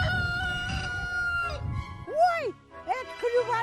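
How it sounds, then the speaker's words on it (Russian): A rooster in a village yard crows loudly and close by, a long drawn-out call that rises and falls, preceded by a brief rougher vocal stretch. "это клювачий петух"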